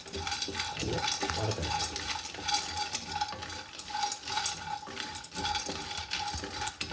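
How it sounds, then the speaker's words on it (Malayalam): Skinless peanuts fry in a hot frying pan, making a dense, continuous crackling sizzle with frequent light rattling and scraping as the nuts are moved around. The sound is close and even throughout. "ഫ്രൈ പാനിൽ ചൂടായി ഞാൻ അതിലേക്ക് കുറച്ച് കപ്പലണ്ടി ഇടേണേ"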